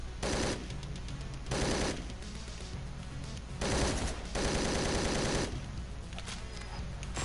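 An AK-47 rifle fires in long, loud automatic bursts, four sustained volleys of rapid shots separated by short pauses, close and alone without talk.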